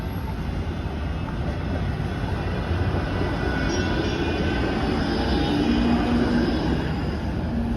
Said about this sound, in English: goes a 503 Kingston Road streetcar.